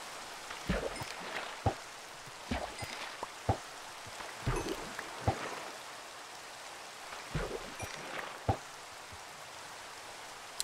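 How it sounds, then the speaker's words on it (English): Rain in the video game Minecraft falls as a soft continuous hiss, fairly faint, broken by irregular sharp ticks and pops scattered through the clip. "It's raining."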